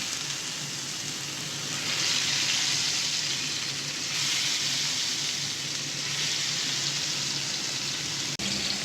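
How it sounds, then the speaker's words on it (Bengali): Marinated pangas fish, coated with cumin, ginger and garlic, goes into hot oil in a frying pan and fries with a steady, moderately quiet sizzle that swells in waves, and a sharp tap is heard near the end. "ফ্রাই প্যানে তেল দিয়ে দিয়েছি। এখন মাছটা দিয়ে দিচ্ছি।"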